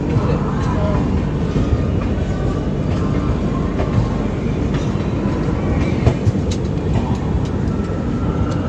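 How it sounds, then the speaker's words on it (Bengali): Train arriving at Kanpur Central on the New Delhi-Howrah Duranto Express route, a dense continuous rumble of railcars with faint clicks over the track, heard from on board, loud and steady. "ট্রেন এখন আমাদের চলে এসেছে কানপুর সেন্ট্রালে"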